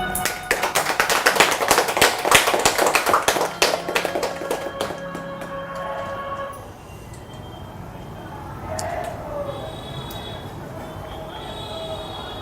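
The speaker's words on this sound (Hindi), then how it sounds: "सभी अपने लिए ज़ोरदार तालियां बजाएंगे।" A group at a class gives a burst of loud, dense clapping that fades out after about six seconds, followed by quieter room noise and a faint voice.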